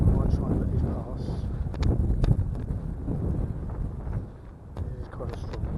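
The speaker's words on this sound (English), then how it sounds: "Oh, as soon as I say that, get a bit of a gust, so I might try and let these pass." Strong outdoor wind buffets the microphone with a low, roaring rumble that swells and eases over several seconds.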